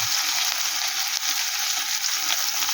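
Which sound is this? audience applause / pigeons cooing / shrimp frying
shrimp frying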